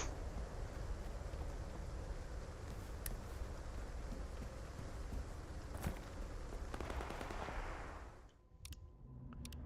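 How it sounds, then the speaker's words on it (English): Distant gunfire in the video game S.T.A.L.K.E.R. 2 crackles as scattered sharp shots and bursts over a constant dense ambient rumble, going quiet near the end. "I heard gunfire down in here."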